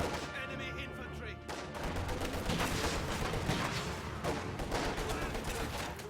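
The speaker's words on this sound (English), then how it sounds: "Here comes the next sniper volley." Sniper rifle volley in the video game Company of Heroes, sharp gunshots cracking over a busy battlefield din of steady gunfire and rumble, with game voice chatter woven underneath.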